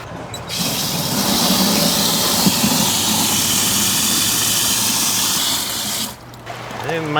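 Water pours into a Nissan Altima radiator in a loud, steady rushing hiss that runs for about six seconds, then stops abruptly, followed by a brief voice.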